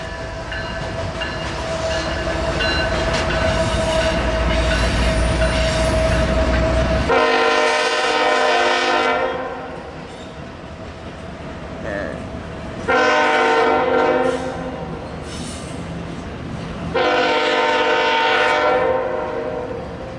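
A Norfolk Southern SD70ACE locomotive hauls a short container train, its horn blowing in several loud, sustained blasts over the rumble and rattle of the passing cars.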